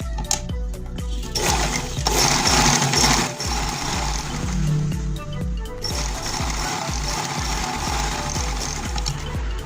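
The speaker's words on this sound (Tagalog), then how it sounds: "Tapos tahin natin na." A sewing machine runs steadily and loud while stitching a pocket onto a pleated school uniform skirt, its fast mechanical chatter continuous with brief shifts in pace and no talking.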